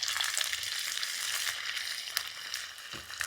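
Ginger fries in hot oil with mustard seeds and fenugreek for a chicken pickle, giving a steady, close, hissing sizzle with occasional crackles and soft stirring scrapes, and no talking.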